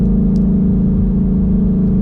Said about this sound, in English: you can hear the car shifting and rolling on into the power